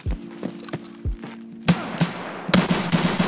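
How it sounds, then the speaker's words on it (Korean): Sharp gunshots crack in quick succession, first sparse then in rapid bursts, with thuds and clattering in between, from the video game Escape from Tarkov. "총소리도 우측에서 들렸으니까"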